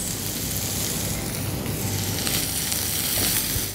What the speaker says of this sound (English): Sauté this up on high heat.